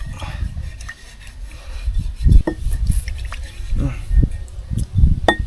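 Water runs through a supply pipe line tied to a tree in a hilly outdoor setting, heard as uneven gurgles, drips and rubbing knocks, close and fairly loud.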